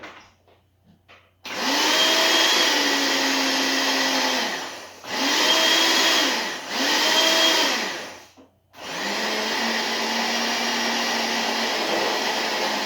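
A blender mixing cottage cheese keto pizza dough with a splash of cream, whirring loudly in several long bursts with brief pauses between, the motor pitch holding steady through each run.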